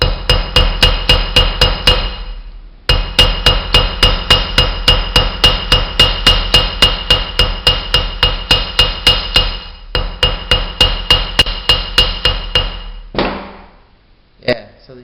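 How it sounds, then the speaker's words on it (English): Rapid, evenly spaced hammer blows ring out as metal is peened on a homemade snake-action bass lure, a steady run of sharp clangs broken by a short pause, then a few final taps. "I'm going to peen it just a little bit more."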